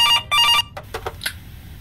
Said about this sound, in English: It's the phone, right?